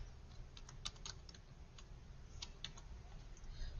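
Someone types on a computer keyboard, a faint, quiet run of uneven clicking keystrokes in short bursts over a low background hum, with no speech.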